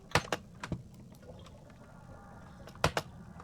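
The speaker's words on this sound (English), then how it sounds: "At least you guys get to hear the clacking of my keyboard." Computer keyboard keys clacking in a few quick clusters of sharp taps near the start and end, with a quieter stretch between and no talking.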